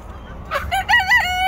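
A rooster crows once, close and clear, in a backyard among chickens being fed leftover food, with a short cluck just before the crow.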